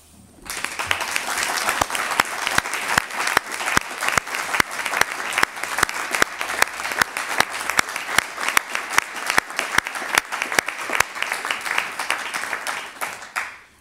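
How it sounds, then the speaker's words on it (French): A roomful of people applauds at a town council meeting in Wattrelos, France, with long, steady, fairly loud clapping that holds its pace for well over ten seconds before quickly dying away. "Et je vous propose de l'applaudir."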